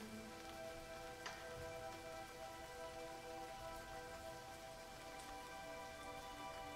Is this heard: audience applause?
no